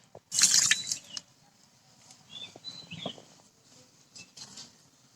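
Water is poured into a bowl of sugar to make syrup: a short, splashing pour opens the clip, then fainter trickles and drips follow, close up and quiet.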